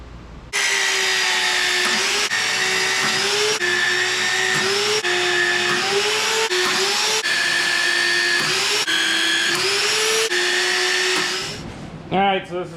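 A magnetic drill whines loudly at a steady pitch, tapping a 5/8-11 thread in a steel truck hitch, pausing briefly and restarting several times as it works through metal, then stops near the end.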